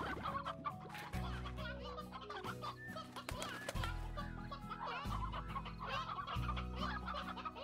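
Chickens in the Slime Rancher video game cluck continuously in a busy, overlapping chatter, quiet overall, layered over a low, pulsing game music track.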